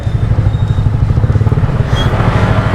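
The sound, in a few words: motorcycles at a ferry port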